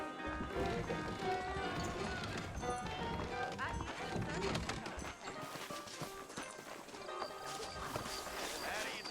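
Saddled horses clip-clop along at a steady walk or trot in a Red Dead Redemption town, the hooves running continuously beneath game music and other ambient noise, with voices talking over them.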